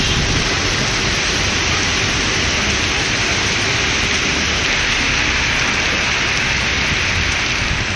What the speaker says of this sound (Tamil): உள்ளிட்ட பகுதிகளில் கனமழை வெளுத்து வாங்கியது